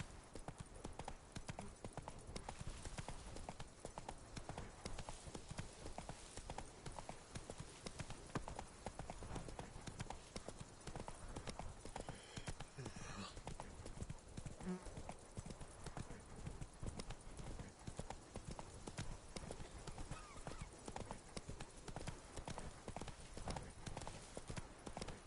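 Horse hooves clip-clopping in a steady galloping rhythm in the video game Witcher 3, quiet and continuous for the whole stretch, with a brief faint whinny partway through.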